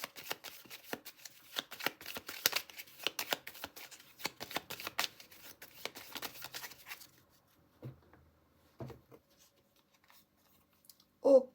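Tarot cards are handled and shuffled during a reading, a dense run of quick papery riffles and flicks for about seven seconds, followed by a few isolated soft slaps and taps as cards are drawn and laid down.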